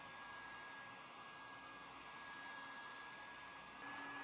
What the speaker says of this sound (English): I'm just starting to use the heat gun